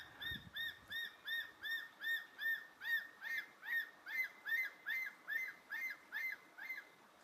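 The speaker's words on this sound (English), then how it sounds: "Listen to that call again." On an African safari, a bird calls repeatedly from a distance, a series of clear rising-and-falling whistled notes at an even pace, faint against quiet surroundings.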